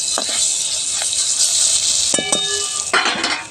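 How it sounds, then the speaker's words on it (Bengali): Fish fries in a pan with a bright, steady hiss of sizzling oil, close and loud, broken by a few clinks of a utensil against the pan near the middle and end. "তারপর আমি এখানে মাছ ভেজে নিচ্ছিলাম।"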